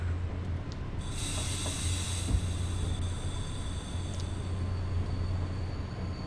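A PKP EU07 electric locomotive train rolls past in the Simrail game, a steady rumbling rail roar with a high hissing wash layered on top during the pass, with no voices.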